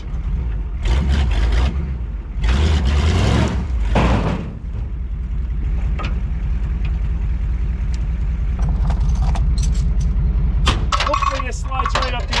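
A wheel-less Jeep Grand Cherokee is dragged up the aluminum rollback bed of a Chevy K30 4x4 truck. Loud scraping bursts come early over a steady, close engine or winch drone, with sharp metallic clanks near the end.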